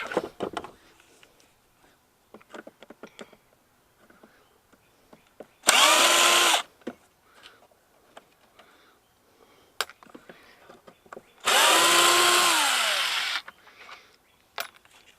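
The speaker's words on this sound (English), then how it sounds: "Cause you pull enough screws loose, something is gonna pop." A power tool whines in two sustained bursts, one about a second and one about two seconds, as it backs screws out of scrap, with scattered clanks and knocks of metal pieces between and around them.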